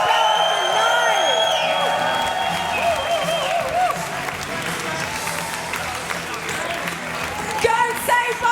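Crowd applause and cheering fill a chessboxing arena as the fighters are sent off, with steady sustained clapping, scattered whoops and an announcer's voice carrying over the noise.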